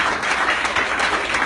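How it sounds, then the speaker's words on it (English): Dense, steady applause from a live onstage coaching event audience in New York, loud and continuous throughout with no talking. "Please give Regan another round of applause."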